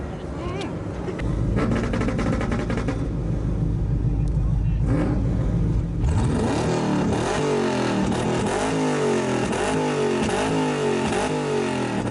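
A car engine drones steadily, then revs hard in repeated rising surges of exhaust roar during an exhaust competition at a car show, loud and close, with voices speaking over it.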